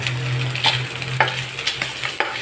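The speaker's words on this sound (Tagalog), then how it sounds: "ginigisa na po natin yung ating pork" Pork sizzling as it is sautéed in a pan for pakbet, a steady hot frying hiss broken by several sharp stirring scrapes, close and without any talk.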